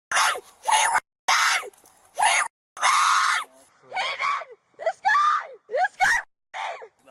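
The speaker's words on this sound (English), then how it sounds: "the person just then starts screeching and squealing" A woman screams and squeals in a public freakout, in repeated loud bursts separated by short silences, harsh and close.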